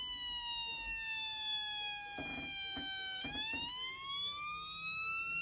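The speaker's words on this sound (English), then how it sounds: "Police car." A police car siren wails with a steady tone that dips and rises again, set against a low background rumble, while brief voices cut in partway through.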